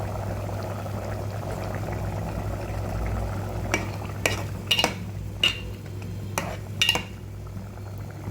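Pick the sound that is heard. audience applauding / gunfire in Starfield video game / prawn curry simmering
prawn curry simmering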